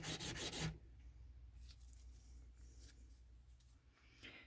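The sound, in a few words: sanding a cast letter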